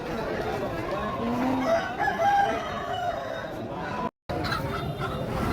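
A rooster crows once at the Machilipatnam chicken market, a drawn-out call rising and falling over a busy backdrop of clucking birds and faint crowd chatter.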